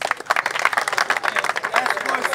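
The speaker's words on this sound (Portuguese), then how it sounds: "Aplausos!" Audience at a rap battle event clapping and cheering in a brief burst of applause, a dense crowd noise with scattered claps and voices mixed in.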